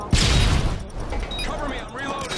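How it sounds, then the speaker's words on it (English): A stun grenade detonates in a team shooter video game, a sudden loud burst followed by a dense ringing roar that persists under game chatter and effects. "Throwing a stun grenade!"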